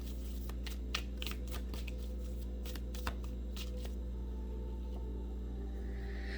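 Tarot or oracle cards being shuffled by hand, a series of quick, crisp riffling flutters and taps, close but quiet, over a low steady room hum with no talking.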